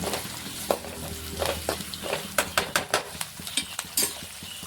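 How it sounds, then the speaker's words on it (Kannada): Chopped onions fry in a pan for a tipri kayi palya, a steady sizzle broken by a run of sharp metallic scrapes and stirring knocks against the pan. The sound is close and unaccompanied by speech. "ಈರುಳ್ಳಿ ಕಟ್ ಮಾಡಿ ಹಾಕೊಂಡಿದ್ದೆ ಇದು ಸ್ವಲ್ಪ ನಾವು ಫ್ರೈ ಮಾಡ್ಕೊಳ್ಳೋದು"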